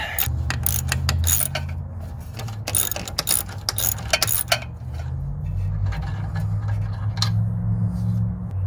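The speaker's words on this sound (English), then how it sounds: "Busted out the ratchet, can get a little more leverage." A ratchet works loose a rusty, crusty bolt on a SAAB downpipe, sharp clicking strokes in bursts over the first half, then a steady low hum fills the rest.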